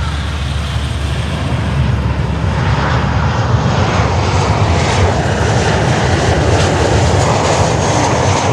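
An Arajet airliner landing, its engine roar steady and loud throughout as it passes fairly close, with broadband jet noise and no voices.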